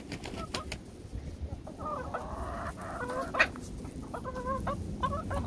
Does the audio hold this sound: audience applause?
no